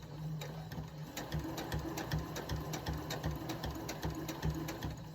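A sewing machine stitches down quilt binding in a steady, close, continuous whir with a rapid needle rhythm that runs the whole time without any talking.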